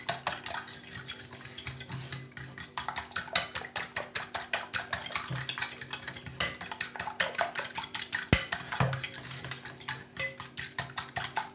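Eggs with a pinch of salt being beaten in a bowl, a quick steady run of close, clicking whisk strokes against the bowl's sides, sounding alone.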